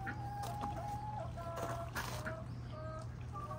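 Chickens clucking on a homestead with a white bird among the flock, several soft clucks and calls scattered over steady background hum and outdoor noise.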